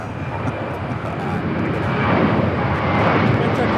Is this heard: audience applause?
no